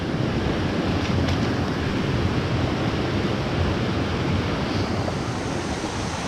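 A stream swollen after heavy rain flows in a dense, steady rush of water, loud and close, with no pauses and no voices.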